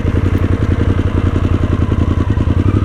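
A Harley-Davidson Sportster S with its 60-degree liquid-cooled V-twin running close by, a loud, lumpy, rapid pulsing rumble with steady mechanical clatter, no one talking.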